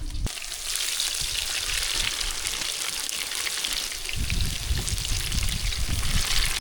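Vada batter sizzles and crackles in hot oil, a dense steady frying hiss that swells louder partway through as more batter goes into the pan, with no talk.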